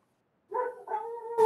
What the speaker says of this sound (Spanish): El perrito está ladrando, Félix